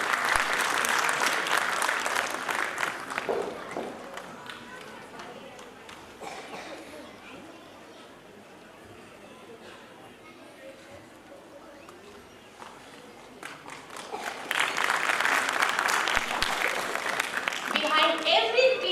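An audience at an Army Public School golden jubilee award ceremony breaks into loud applause and cheering, which fades into quieter crowd murmur before a second strong burst of clapping swells near the end.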